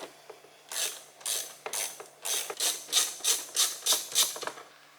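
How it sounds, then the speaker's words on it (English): Ratcheting screwdriver or ratchet removing two door panel screws on a Chevy Malibu, a rapid series of about eight close clicking bursts in steady rhythm, with no talking. "Now we can go ahead and remove those 2 screws."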